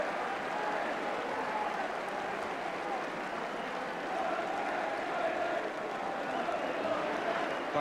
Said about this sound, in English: the crowd have enjoyed the first period, which they've greeted noisily all through